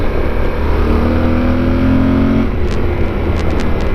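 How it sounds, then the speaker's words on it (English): A Yamaha Super Tenere motorcycle engine drones loudly as it powers out of corners on twisty roads, its pitch climbing steadily under heavy wind rush before easing off. "I love listening to this bike powering out the corners"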